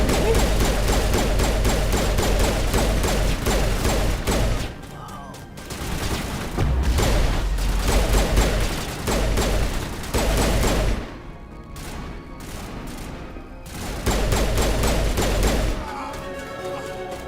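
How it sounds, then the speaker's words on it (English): Heavy gunfire from Mass Effect 1 combat, rapid automatic bursts stacking into a dense fusillade, broken by a few short pauses before the shooting resumes. "They are shooting me?"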